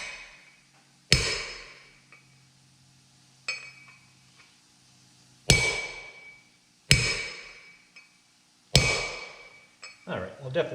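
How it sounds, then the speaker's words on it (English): Metal hammer blows drive a bearing race into a 1978 Trans Am hub: five sharp, ringing strikes spaced a second or more apart, each with a bright metallic ping and brief decay, plus a few lighter taps between. "So you just want to drive that race in until it's seated"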